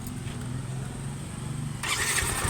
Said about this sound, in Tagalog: Karon testingan nato start kung mugana na starter.